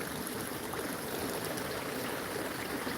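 Water trickles steadily into a ceramic fountain bowl at a garden nursery, a soft continuous splashing wash with no talk, even and fairly faint throughout.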